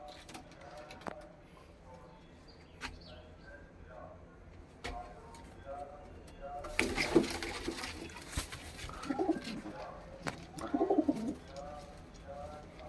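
Punjabi Malai Chhatri pigeons coo softly at close range in Ludhiana, with wing flutters and rustling bursts midway and scattered clicks and shuffling around them.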